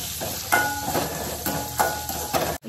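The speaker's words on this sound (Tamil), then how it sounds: "வெங்காயம் அண்ட் இஞ்சி எல்லாமே போட்டு இப்போ நம்ம வந்து வதக்கிட்டு இருக்கோம் இதெல்லாமே" Onion, ginger and grated coconut sautéing in a pan, a continuous close sizzle with repeated stirring strokes and spoon taps roughly every second.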